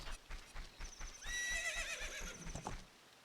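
Horse from Zelda Ocarina of Time gives a loud whinny over rhythmic clip-clop hoofbeats, the neigh rising and falling for about a second before the hooves continue.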